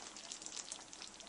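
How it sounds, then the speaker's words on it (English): Food simmering in its own juices in a hot pan, a steady low crackling sizzle that stays even and faint throughout, with no talk. "I'm just going to let it simmer in its own juices for a while"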